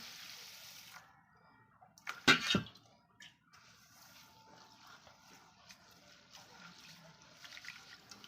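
Moong dal is rinsed in water in a home kitchen, giving a brief close splash and slosh partway through, followed by faint trickles and quiet handling noises.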